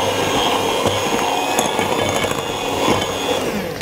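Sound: egg beater mixing tea cake batter

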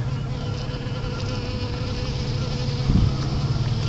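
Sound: honey bees buzzing

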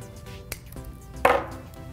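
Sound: trimming end of 3D printed rivet

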